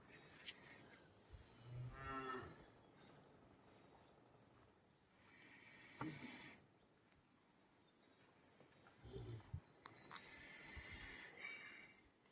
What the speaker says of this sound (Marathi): आणि अशा पद्धतीने बघा आपण ह्या 2 गाय घेऊन आलो.